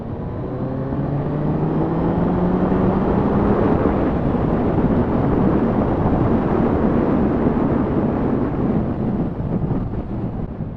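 Yamaha MT-09 Y-AMT naked motorcycle engine revving hard as the throttle is twisted aggressively in D+ mode, a loud continuous roar with rising pitch sweeps, heavy wind rush over the microphone throughout.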